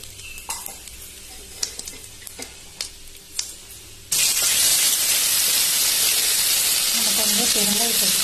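Curry leaves and dried red chillies hit hot oil with mustard seeds for curry leaf chutney, setting off a sudden loud, steady sizzle and spatter that follows a few quieter clinks and stirring sounds.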